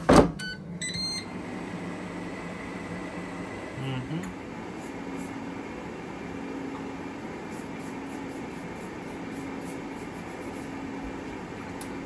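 A Ninja Foodi 7.6 L air fryer runs with a steady, even fan whir and hum, preceded by a brief loud knock and speech at the start.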